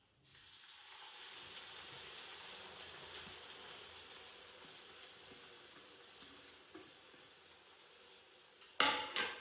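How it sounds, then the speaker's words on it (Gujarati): Green turmeric sizzling in a hot frying pan, a steady soft hiss of frying that holds evenly throughout, fairly quiet, ending with a brief louder clatter. "તો આપણે એમાં પહેલા લીલી હળદર એડ કરી દઈશું."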